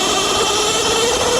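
A Qronge X1 electric dirt bike accelerates on wet grass, giving a steady high-pitched motor whine with a broad rushing noise, loud and close, with no voices.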